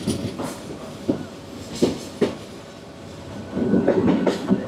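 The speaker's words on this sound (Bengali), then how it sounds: "এটা চলে যায় ট্রেনটা" A train on the Sylhet to Sreemangal line rounds a curve nearby, its wheels beating out a rhythmic clickety-clack over a continuous rumble that swells louder toward the end of the clip.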